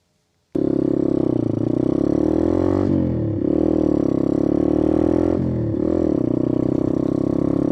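A 2020 Boom Vader trike fitted with a 141 big bore kit starts out after a moment of silence, its loud engine droning close by and rising and falling through several revs and gear changes as it rides away.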